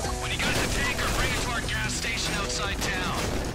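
Gunfire striking a tanker in GTA 5, a dense, continuous crackle of shots mixed with other game noise, with someone talking over it throughout.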